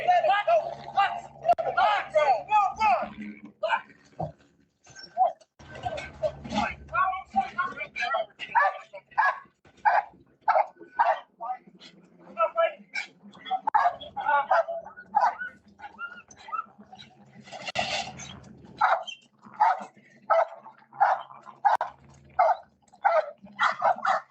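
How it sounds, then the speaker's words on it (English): A police dog barks repeatedly in quick, loud bursts over roughly twenty seconds, with people talking throughout. "Look, that motherfucking dog wants some more."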